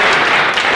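A brief, loud burst of audience clapping at a tap dance company show, dense and close for under a second.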